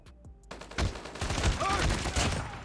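Rapid gunfire from a Colorburst AK117 rifle in the mobile shooter Call of Duty Mobile rattles out in several quick bursts after a brief quiet start, loud and close, with game effects mixed in.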